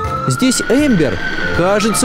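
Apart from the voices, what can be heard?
ambulance siren in a cartoon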